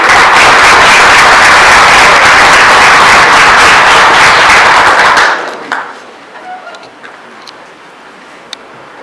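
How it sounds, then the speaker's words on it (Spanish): A crowd at a taekwondo camp event in Ecuador applauds loudly and densely to welcome a guest, Dr. Guillermo Sáez, for about five seconds before it cuts off into a quiet room. "Un fuerte aplauso"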